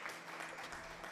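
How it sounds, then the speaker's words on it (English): Brief scattered clapping in the video game Stardew Valley, a short patter of applause at moderate level. "Thank you for the applause, Sinsuni."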